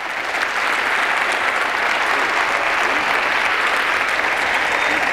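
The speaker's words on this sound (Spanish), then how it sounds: "otro aplauso para estos niños tan lindos." Crowd at a regional folk dance festival in Agüimes claps for a group of child dancers, a thick continuous wash of applause that stays loud and even from start to finish, with no speech.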